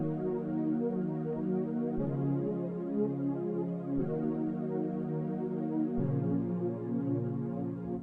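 A sustained synth chord progression with chords changing every two seconds, steady and full, no voices.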